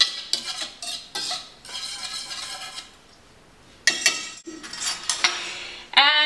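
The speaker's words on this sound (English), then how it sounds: "you're going to need a handy dandy whisk that you're going to whisk your dry ingredients together" Dry pancake ingredients are whisked together in a bowl for a gluten- and grain-free protein pancake recipe, with rapid clinking metal-on-bowl strokes in bursts, a pause, then more brisk whisking, close and fairly loud with no talk.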